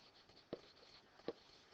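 Writing on a board during a high school math lesson, heard as two short, faint strokes about a second apart against a quiet room.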